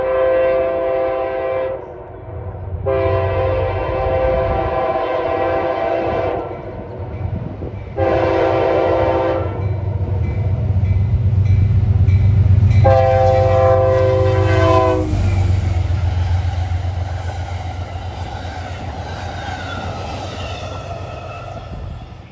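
An Amtrak passenger train, the Maple Leaf, rumbles past loudly with several long, blaring horn blasts, the heavy rolling roar continuing and fading after the horn stops, on CSX's Mohawk Subdivision.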